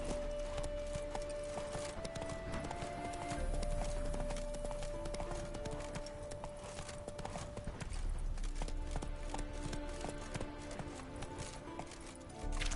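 Roach, a horse in The Witcher 3, gallops with a steady, rapid clip-clop of hooves close by, running continuously under a sustained musical tone and game ambience, with a brief voice at one point.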